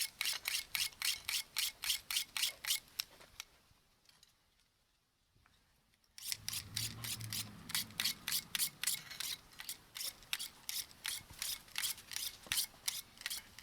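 Dollar Tree paring knife drawn across a sharpening surface in quick, evenly spaced scraping strokes, close and crisp. The strokes stop for about two seconds of near-silence, then resume at the same brisk rhythm.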